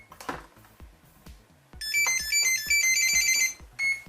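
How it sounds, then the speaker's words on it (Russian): An unconfigured electronic speed controller on a drone with a Pixracer flight controller emits a series of sharp electronic beeps and tones, steady and close, after some faint clicks. "Регулятор пищит, потому что не сконфигурирован сервер."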